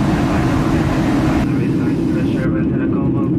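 Simulated cabin air and engine noise of a Ryanair 737-800 at cruising altitude in Flight Simulator X: a continuous, loud, low roar of rushing air and engines that holds steady throughout.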